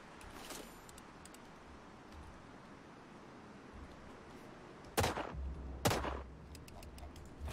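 Two sharp, loud gunshot blasts about a second apart ring out from a deployed turret in the video game Sniper Ghost Warrior Contracts, with quieter crackles and faint shots scattered over a steady background hum.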